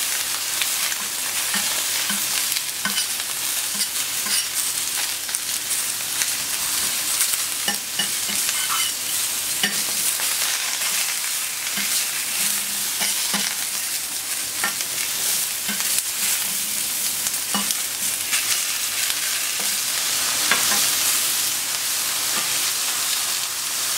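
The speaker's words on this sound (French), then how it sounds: "Donc les poivrons, ça grille. Les shiitake aussi." Peppers, shiitake mushrooms and Chinese cabbage grill in a hot pan with a continuous loud sizzle and frequent scraping, stirring clatter throughout, no voices.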